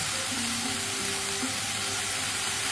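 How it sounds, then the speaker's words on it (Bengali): Vegetables for Bengali sukto fry in a pan with a steady, close hiss and sizzle, with a faint low tonal hum underneath. "সবজিগুলো কিন্তু ভালো করে ভাজতে হবে, যেন কাঁচা গন্ধ কোনোভাবেই না থাকে।"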